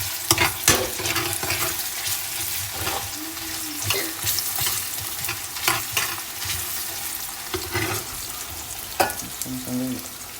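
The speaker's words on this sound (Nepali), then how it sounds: "पहिला अझै हालेर भुट्नु प्याजलाई" Onions frying in olive oil for Portuguese bacalhau à brás, a steady close sizzle with repeated scrapes and clacks from stirring, no voices.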